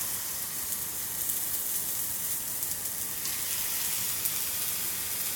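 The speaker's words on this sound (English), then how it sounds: "You want to hear that nice sizzle," Ribeye steaks sizzle in hot oil in a cast iron pan, a dense, steady crackling hiss with no breaks, close and fairly loud, with no talking.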